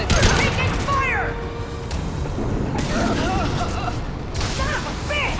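Gunfire in the video game Mass Effect 2, sustained rattling bursts of weapon fire with whooshing sci-fi tones and impacts, loud and dense throughout.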